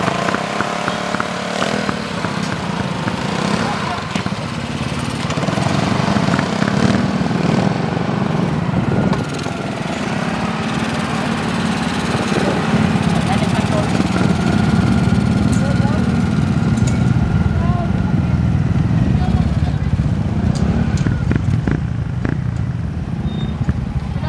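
Engine running loud and steady throughout during a motorcycle sound check, with a continuous rough drone and people talking over it.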